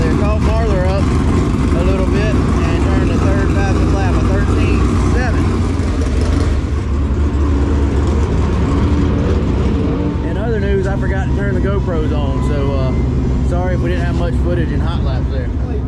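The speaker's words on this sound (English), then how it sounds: "There's car number 2 on the speedway." A race car runs laps on the I-75 Raceway speedway, its steady loud engine drone rising and falling as it passes, with a commentator's voice talking over the noise throughout.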